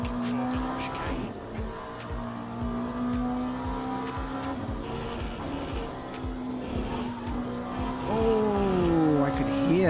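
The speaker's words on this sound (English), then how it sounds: "Oh, I could hear that. The squealing tire." A tire squeals on an LMP2 prototype racing car in the Le Mans Ultimate sim racing game. The thin screech runs steadily under a constant engine drone and rhythmic mechanical ticking, growing slightly louder near the end.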